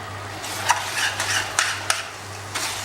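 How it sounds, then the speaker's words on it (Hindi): A spoon scrapes and stirs through mutton mince and flour in a pan, irregular clinks and scuffs over a low sizzle, fairly close, with no voices. "और कीमे के अंदर अच्छे से मिक्स कर देते हैं इसको, मैदे को।"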